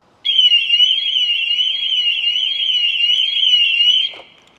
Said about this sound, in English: they will happily drive your vehicle away from your home or wherever you've left it with the alarm going off